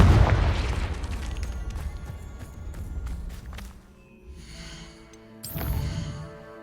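A Confringo fire spell from Hogwarts Legacy bursts with a loud, booming explosion at the start, then fades into a rumbling tail, with a second, softer blast and crackle near the end.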